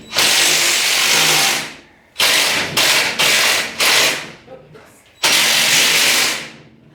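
A power driver with a hex key head tightens the bracket bolts of a garage overhead shelf, whirring loudly in one long run, then several short bursts, a pause and another long spin.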